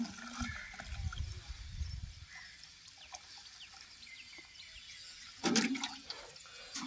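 Fresh palm sap (padaneer) pours into a pot as a soft, steady liquid rush, fairly faint and close, with a brief louder splash near the end.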